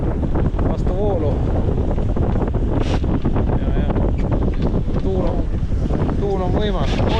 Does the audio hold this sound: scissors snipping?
no